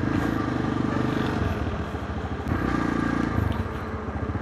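A motorcycle rides along the road, its engine droning steadily and loudly with a rhythmic pulse and rushing wind throughout.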